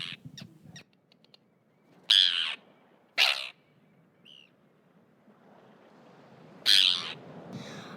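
Arctic terns at a seaside nesting colony give harsh, grating calls in a few loud separate bursts, with softer chatter and quiet gaps between them.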